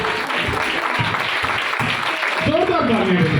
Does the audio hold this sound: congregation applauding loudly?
yes